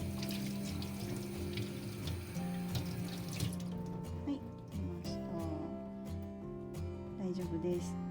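Ceramic washed with a sponge under a running kitchen tap, with continuous close water flow and some scrubbing and clatter, and a voice talking under it in places.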